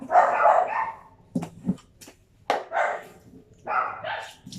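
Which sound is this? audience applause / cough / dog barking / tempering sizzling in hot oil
dog barking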